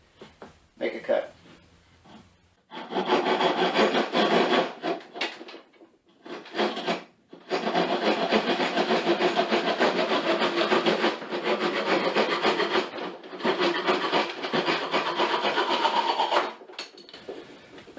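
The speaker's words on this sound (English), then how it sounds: "cross cut saw. Teeth are somewhat offset. Well, so we'll see if we can quickly make a cut." A cheap Dollar Store crosscut saw with offset teeth rasps through thin wood in several long, steady back-and-forth stroking bursts, close and loud, with brief pauses and a little talk at the start.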